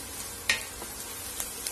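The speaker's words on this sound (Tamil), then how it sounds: "பூண்டும் சில்லியும் வதங்கட்டும்." Garlic and green chillies sizzle steadily in a hot pan, a constant frying hiss with a few sharper pops and crackles, close and alone without talk.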